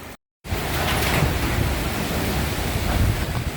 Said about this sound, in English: She's gusting up again. The rain's starting to come back once more.